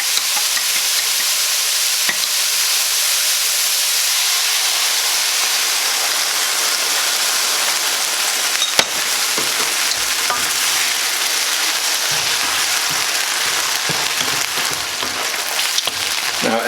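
A sauce with cornstarch and brown sugar bubbles and sizzles steadily in a pan with meat while being stirred, a constant close hiss with occasional scraping and clinks and no talking.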